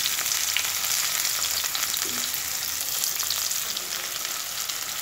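Chopped garlic and onion frying in a pan for a Bengali-style broccoli dish, a steady close hiss of oil with faint stirring, no voices.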